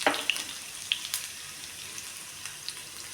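Sliced shallots fry in oil with mustard seeds, a faint, even sizzle with a few small pops and spits scattered through it.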